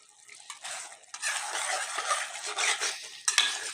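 Red chilies fry in ghee and oil in a karahi for chicken karahi, a steady close sizzle with scraping stir strokes and brief quieter dips, no talking.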